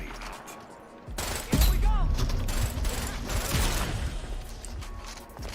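LMG machine gun firing in the video game Rogue Company, a sustained burst of rapid gunfire with mechanical clatter, under a player's talk.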